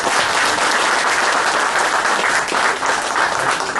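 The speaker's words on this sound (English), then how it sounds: "I would like you all to give him a round of applause." A crowded audience gives a sustained round of applause for Garfield King, steady dense clapping filling the room for the whole stretch without a break.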